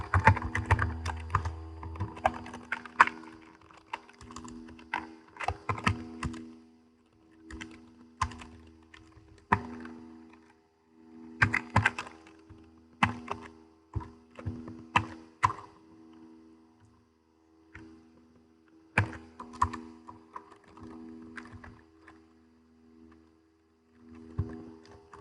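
Fingers clatter on a computer keyboard while code for a basic sort algorithm is typed, coming in irregular bursts of close, crisp key presses separated by short pauses, with no talking.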